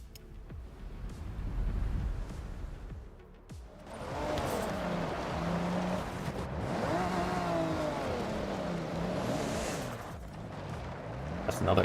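A Toyota Supra in the Forza Horizon racing game drives on a dirt road, its engine revving and rising and falling in pitch as it accelerates, with faint background sound before the car takes over.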